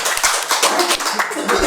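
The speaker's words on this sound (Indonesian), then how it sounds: "Beri tepuk tangan untuk orang." Applause at a gubernatorial debate in Saraba, 2024: a burst of scattered, uneven hand claps from a small crowd, with a voice talking over them.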